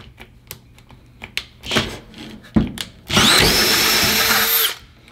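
A few sharp clicks and knocks, then a Bosch power drill cutting with a hole saw whines loudly and steadily for about a second and a half before stopping, the drill smoking.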